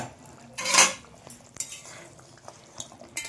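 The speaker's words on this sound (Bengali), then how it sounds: "বন্ধুরা এটা আবার খুলে দেখে নিই আলুটা কেমন সেদ্ধ হয়েছে নাকি" A metal lid is lifted off a pot of boiling potatoes with a loud clanking rattle, followed by scattered lighter clinks of cookware and utensils.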